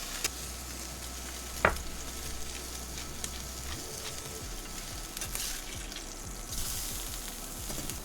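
A steak sears loudly on a very hot surface in the 400s, with a constant dense sizzle and a few sharp pops, close up and without talk.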